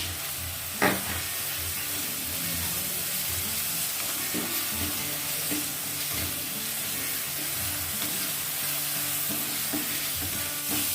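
Ginger, green chili and onion paste fries in a pan of oil for rohu fish kalia, giving a steady, close sizzle with stirring scrapes throughout and no talk.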